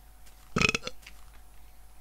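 A single loud, close burp erupts from a person during a Minecraft play session, a short throaty burst with a brief tail, alone with no talk.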